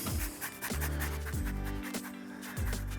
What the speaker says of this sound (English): I'm gonna use some zest of the lemon.